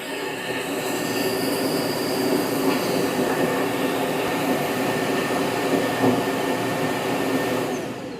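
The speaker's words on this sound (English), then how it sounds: "here's the auto emptying the dustbin" A Roborock Qrevo Edge dock auto-empties the robot vacuum's dustbin, giving a loud, sustained, steady roar of suction with a rattling rush of debris drawn through. It runs evenly for several seconds and then begins to tail off, with no voices.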